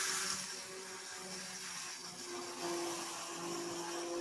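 A blender whirs through a hot plant-based summer soup right in the pot, a steady, moderately quiet motor drone with a grinding hiss that barely changes over a few seconds.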